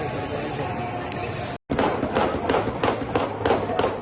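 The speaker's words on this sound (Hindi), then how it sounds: "सिविल लोग भी यहाँ पर फायरिंग कर रहे हैं।" Gunfire breaks out at a street protest, with a run of sharp, loud cracks coming one after another at a fairly even pace over crowd noise and voices.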